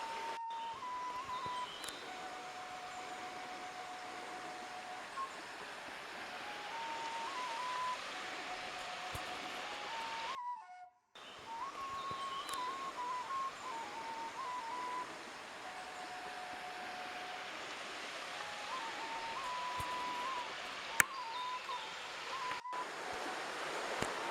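A river riffle on the high bank of the Bober river gives a steady, broad rushing of shallow water over stones, continuous and fairly distant, with faint high tonal noises and a brief dropout midway.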